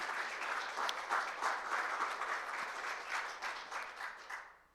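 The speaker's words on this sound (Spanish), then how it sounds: "Dele ese aplauso a la gloria del Señor." A church congregation applauds during a sermon: dense, sustained clapping from a crowd, fairly loud at first and then tapering off toward the end.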